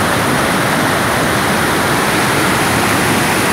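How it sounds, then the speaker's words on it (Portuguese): The large Cachoeira da Chave waterfall in Votorantim roars loud and close, a dense, unbroken rush of falling water with no voices. "não dá nem para medir quantos milhões de litros de água que desce aqui por segundo"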